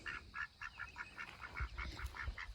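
Ducks quack in a steady, repeated series near a backyard duck pen in a garden, a run of nasal calls with low thumps and handling noise underneath.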